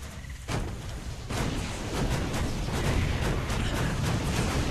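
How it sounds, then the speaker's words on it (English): Tanks in the video game StarCraft II pound rocks with a rapid, continuous barrage of heavy, booming shots that build quickly after a brief quieter opening. "Well, tanks just do so much damage to rocks."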